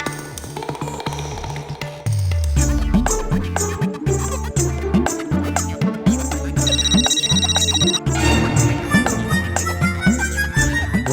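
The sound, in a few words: telephone ringing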